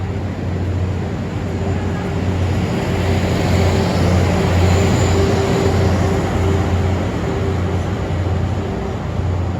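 Steady low rumble and mechanical drone of a train pulling away from Yeongdeungpo Station, South Korea, with a constant hum throughout and no clear voices.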